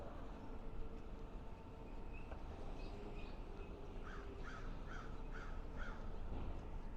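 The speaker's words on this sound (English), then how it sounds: "Yeah, that's a loud crow." A loud crow caws repeatedly, a run of about five harsh calls toward the end after a few earlier ones, over steady street and traffic rumble on a sidewalk near an elevated rail overpass in Midwood, Brooklyn.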